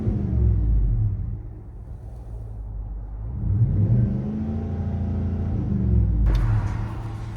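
A 2023 GMC Yukon Denali's 6.2L V8 with a Flowmaster Flow FX cat-back exhaust, heard from inside the cabin: a deep, steady rumble that swells and eases with throttle, ending on a brief higher-pitched clunk.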